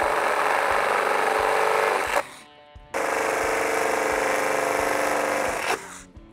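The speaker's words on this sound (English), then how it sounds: "So let's drill that out now." A power drill bores holes into the roof rail of a 2019-2021 Toyota RAV4 for a Prinsu roof rack install, two loud sustained whirring runs separated by a brief pause, close up.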